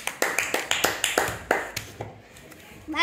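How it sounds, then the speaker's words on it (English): A classroom group claps in a steady run of about ten sharp, evenly spaced hand claps during a children's English reading activity, fading into quiet background murmur at the end. "Claps."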